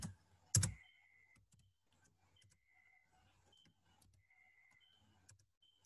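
Quiet keyboard typing while building an Excel project, with sparse, light key clicks spread over several seconds. A sharper thump comes at the start, and a faint tone hums in the background.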